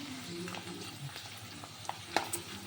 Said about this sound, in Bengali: গরম তেলের মধ্যে আলুর চিপস ভাজা শুরু করে দিয়েছি